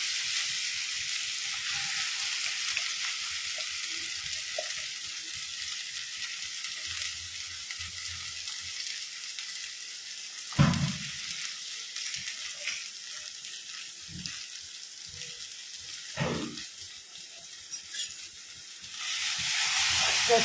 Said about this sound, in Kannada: ಇವಾಗ ಇದರಲ್ಲಿ ಸ್ವೀಟ್ ಕಾರ್ನ್ ಹಾಕ್ತಾ ಇದ್ದೀನಿ,